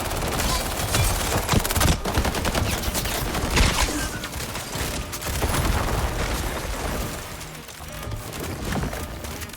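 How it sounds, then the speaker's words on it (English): Rapid full-auto sniper rifle fire in the online shooter Highguard rattles on almost without a break, loud and dense, with booms and other combat noise layered over it. "this sniper's ridiculous, bro. It's full auto, you know."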